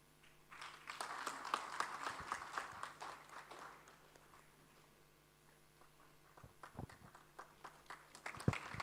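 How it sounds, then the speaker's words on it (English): A small group at a certificate presentation claps for a recipient, a sparse, uneven patter of hands that swells, fades into near quiet, then resumes in scattered claps, fairly faint. "clap for him"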